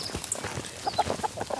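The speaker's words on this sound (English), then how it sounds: "Let's check on the meat birds." Farmyard chickens clucking softly in short, scattered calls at moderate distance, with faint rustling and background noise around them and no talking.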